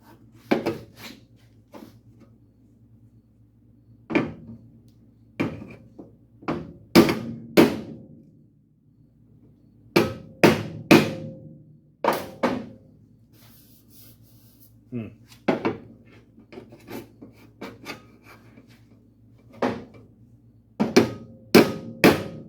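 A hammer strikes the crumpled sheet-metal cowl panel of a 1951 Chevy truck in a series of sharp, close, uneven blows with quiet gaps between them.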